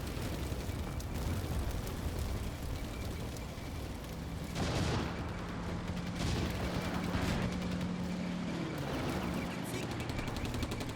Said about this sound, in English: Shooting at it from 3 directions.